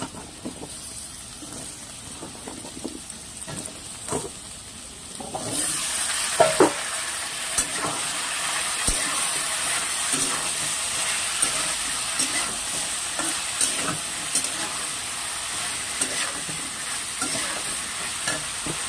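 Taro stolons go into a pan of lightly fried onions, and after about five seconds a loud steady sizzle takes over, broken by occasional stirring scrapes and clicks.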